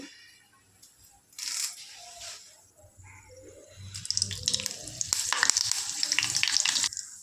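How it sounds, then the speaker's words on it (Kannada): Mustard seeds and curry leaves spluttering in hot oil for vada pav: sparse crackles at first, then dense, loud popping and sizzling that builds toward the end, close up. "ಕರ್ಬೇವು ಸೊಪ್ಪು ಮತ್ತು ಸಾಸಿವೆ ಸ್ವಲ್ಪ ಸಿಡ್ದಾದ್ಮೇಲೆ"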